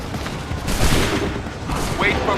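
Musket volley gunfire in the Assassin's Creed III video game, a dense rolling burst of shots that swells and fades over a couple of seconds, with shouted voices mixed in.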